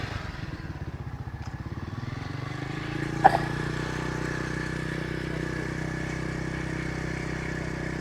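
A motorcycle engine idles with a steady rhythmic putter, then settles into a smoother, higher hum after a brief metallic clack.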